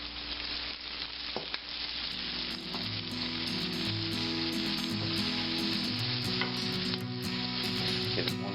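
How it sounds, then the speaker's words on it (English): Flour-coated chicken pieces fry in hot oil with a loud, continuous sizzle and bubbling crackle that stays close and steady throughout, alongside some faint tonal music and no speech. "Once I'm done, I put it directly into my oil."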